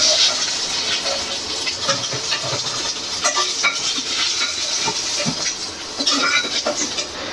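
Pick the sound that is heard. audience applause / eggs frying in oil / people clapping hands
eggs frying in oil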